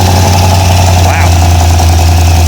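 A Big Block Chevy motorhome engine sits at fast idle, a loud steady low rumble up close with a brief shift partway through.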